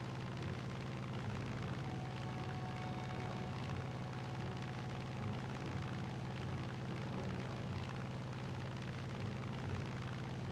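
A P-47 fighter plane in a video game dogfight gives off a constant, loud engine drone with a deep, steady roar and no breaks, heard alone without talk.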